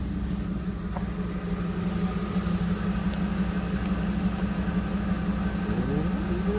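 A truck engine idles through exhaust stacks with a steady low rumble and a constant throbbing hum, close and unbroken, with a faint rising whine near the end.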